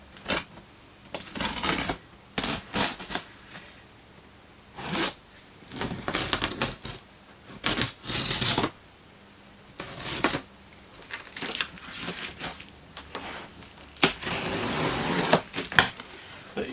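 A series of rough, scratchy slicing bursts as a blade cuts through cardboard, coming in uneven strokes with short pauses between them, close by.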